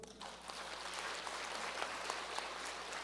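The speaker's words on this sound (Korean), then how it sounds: "박수 한번 주세요." A church congregation at a Sunday worship service applauds softly and steadily, a faint wash of clapping heard from a distance for a few seconds.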